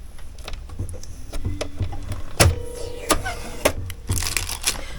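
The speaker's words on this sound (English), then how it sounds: "Another piece of tape and another piece of tape." Packing tape peels off a new sewing machine in sharp ripping bursts and crackles, several separate pulls close by with brief pauses between them.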